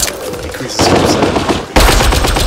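Rapid, loud bursts of gunfire come from a long rifle in the Apex Legends battle royale game, close and harsh with a sharper volley at the end.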